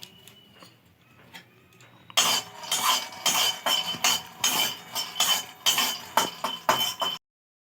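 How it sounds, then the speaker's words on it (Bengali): Peanuts dry-roast in an empty pan as they are stirred. After a quiet start, a dense rattling clatter of nuts against metal comes in rhythmic bursts, then stops abruptly. "তাই কয়েকটা চীনা বাদাম শুকনো খোলায় ভেজে নেব।"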